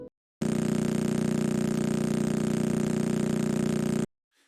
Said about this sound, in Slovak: Toto je zvuk mŕtvej hviezdy, ktorá sa točí 11 krát za sekundu.